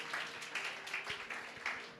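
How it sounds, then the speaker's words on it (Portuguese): A church congregation applauds in quick, uneven bursts of clapping, fairly faint and distant. "Pode aplaudir ao Senhor, irmãos, por esta palavra."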